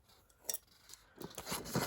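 Scissors snipping roughly through paper for a vintage journal, a few quick close crisp cuts in an irregular rhythm, fairly quiet with no talking.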